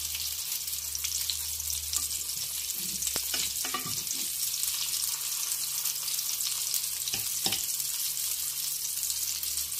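Liver fries in a pan and is turned partway through, giving a steady, close sizzle with a few scraping clatters and no talking.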